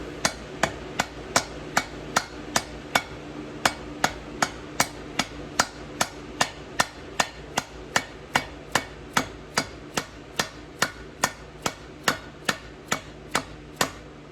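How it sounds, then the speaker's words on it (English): A bearing and seal tool is tapped into a bushing during a Ford toploader four-speed transmission rebuild, giving about thirty sharp, evenly spaced metallic hammer taps close by, with no talking. "take a bearing and seal tool and just put it over top of the bushing like that and lightly tap it in"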